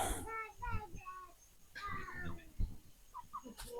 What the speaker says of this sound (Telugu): కోళ్ళు పైకి ఎక్కేసాయి